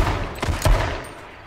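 Close bursts of gunfire in the survival shooter H1Z1: two sharp, loud shots about a third of a second apart, with a fainter crack later, over a dull background rumble.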